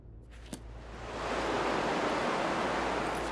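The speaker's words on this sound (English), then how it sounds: "Nope, waterfalls are still loud as hell." Waterfall ambience in Skyrim Special Edition swelling from a quieter rush into a loud, constant broadband roar of falling water that fills the rest of the moment.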